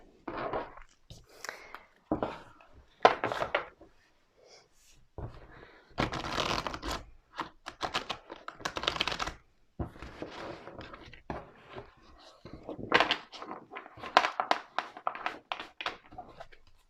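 Oracle cards being shuffled and laid out for a weekly reading, heard as soft repeated riffling and papery slaps in irregular bursts, close and fairly quiet, with brief pauses between handfuls.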